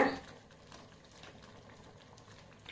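Coconut curry simmering in a pot, a soft, steady bubbling that stays faint and continuous throughout, with no voices over it.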